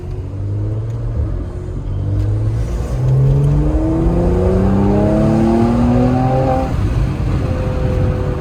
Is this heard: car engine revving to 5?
yes